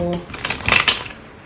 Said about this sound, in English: I'm just going to quickly do a proper shuffle before I start my normal shuffle.